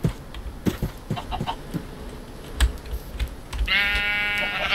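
Near the end, a single wavering sheep bleat from Minecraft survival play rises over earlier scattered clicks and footsteps, loud and close, lasting about a second.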